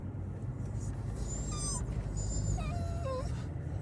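A dog whimpering and whining in a few thin, rising and falling cries over steady outdoor street noise, moderately close.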